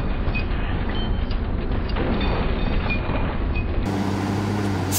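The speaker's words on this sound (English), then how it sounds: "did you see the train then?" Steady loud rumble of a train rushing past close by in Ghost Recon Wildlands, a continuous heavy roar that cuts off abruptly near the end and gives way to quieter ambience.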